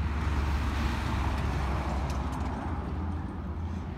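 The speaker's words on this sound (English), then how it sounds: "you do get the traffic here on the right, and a lot of trucks do go by." Road traffic with trucks passing a roadside rest area near Majura in the ACT, heard as a steady, loud rumble of engines and tyres that fades slightly toward the end, with no voices.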